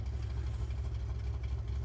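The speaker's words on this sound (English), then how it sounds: "We're going to start up the engine." A vehicle engine in Farming Simulator 19 rumbles in a steady, low idle right after starting, a continuous close drone with no talk over it.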